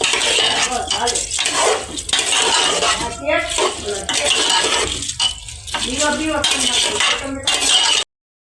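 Rice is stirred in a metal cooking pot, with repeated scraping and clinking of a spoon against the pot in uneven bursts, close and fairly faint.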